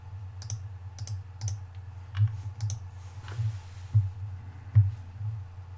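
Computer keyboard typing: a quick run of crisp, close key clicks in short bursts, spaced irregularly over a steady low hum, with no talking.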